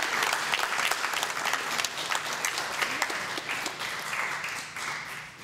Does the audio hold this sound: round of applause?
yes